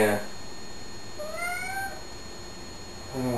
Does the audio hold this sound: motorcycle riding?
no